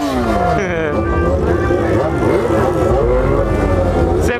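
Yamaha XJ6 motorcycle with an aftermarket exhaust, revved hard up close, its engine note climbing and falling in loud throttle blips over a rough, rumbling idle.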